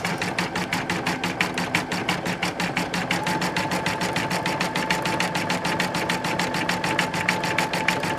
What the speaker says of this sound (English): this is doing a pretty big satin stitch